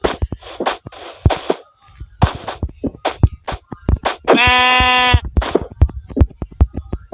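Sheep bleating in a video game, one long wavering bleat in the middle of steady clicking and tapping game sounds, close and loud.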